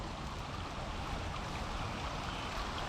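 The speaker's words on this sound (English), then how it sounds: "It's next to the river here." A river running low on water beside a park pathway makes a soft, steady broadband rush, faint and continuous with no voices over it.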